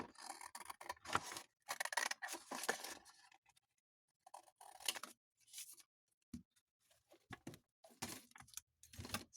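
Scissors snip through a book page, trimming it out with a narrow border left around the edge. Quiet, close cuts come in irregular bursts of crisp snipping and rustling, separated by short pauses, with no talking.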